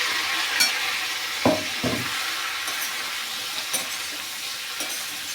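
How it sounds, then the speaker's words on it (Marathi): Sweet potato slices sizzle steadily in ghee alongside fried cashew and almond slivers for a halwa, with a few scraping stirs of a spoon breaking through the constant hiss. "याला छान तुपामध्ये परतून घ्यायचं आहे"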